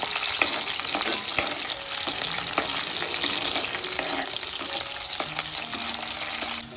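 Garlic and chilli fry in hot oil for a prawn curry, a continuous close sizzle with scattered crackles and light stirring clicks throughout, no talking.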